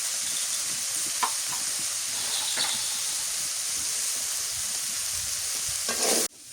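Egg and potato bhaji fries in a village kitchen pan, a steady close sizzle with a few scraping stirs, ending abruptly.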